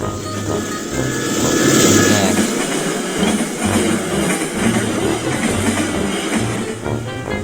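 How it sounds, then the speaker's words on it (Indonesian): A train rumbles past a level crossing close by, a steady heavy roar with rhythmic clattering of wheels over rail joints throughout. "Ada kereta nih"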